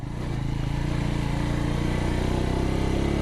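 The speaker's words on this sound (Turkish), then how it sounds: "Motorumuz da yeni. Regal Raptor DD150." A new Regal Raptor DD150 motorcycle engine runs steadily and loudly for a few seconds, with a close, even low throb and no talking.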